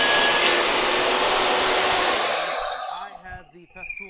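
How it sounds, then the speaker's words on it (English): A Festool ETS EC 150/3 EQ random orbit sander whirs loudly with a high, airy hiss, then spins down and fades over the last second, leaving quiet shop noise. "have the Festool Random Orbit Sander, the ETSEC 150/3 EQ Festool"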